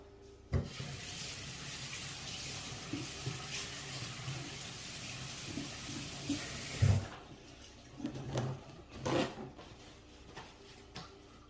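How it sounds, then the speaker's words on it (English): Water runs from a kitchen faucet as hands are rinsed under it, a steady splashing stream for about six seconds before it shuts off, followed by quieter handling clatter; no talking. "let me go ahead and rinse my hands off"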